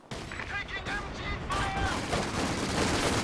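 Artillery and gunfire from a Company of Heroes 2 battle, with a mortar strike among dense overlapping blasts and bursts that keep a busy, loud din going under the game's other effects.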